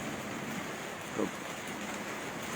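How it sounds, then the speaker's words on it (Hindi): Light rain in steady soft hiss, a gentle continuous patter filling the background, with one brief faint low sound near the middle. "हल्की हल्की बारिश शुरू हो चुकी है, अब पहले नहीं थी।"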